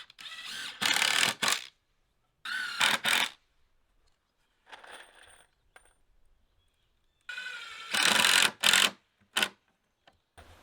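A power drill drives screws into picnic table wood in several separate bursts of whirring and grinding, close and loud, with quiet pauses between them.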